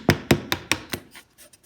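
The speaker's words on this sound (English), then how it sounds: "put that shim behind, and hammer it in just a little bit" A hammer drives a wooden shim in behind a rustic fireplace mantle: five sharp, close taps in quick even rhythm, then a few fainter follow-up knocks.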